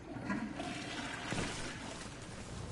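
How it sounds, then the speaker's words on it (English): Toilet flushing in the Arma Reforger video game, a continuous rushing, gurgling wash of water at moderate level that holds steady through the whole stretch without clear pauses. "Flush the toilet?"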